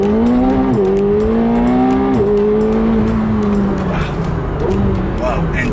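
A Mercedes SLK 55 accelerates hard and then brakes. Its engine note climbs and falls in a strong, steady tone, with a shift near the start and another at about two seconds, and tire noise mixed in, under excited voices.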